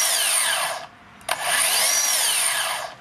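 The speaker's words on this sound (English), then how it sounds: "I'm going to pull the trigger and let you see the brake." A HiKOKI cordless track saw whines up to speed with a loud high-pitched motor hum, then cuts off sharply and the electric brake stops the blade. After a short click it spins up again and winds down once more as the blade brakes, with no talking.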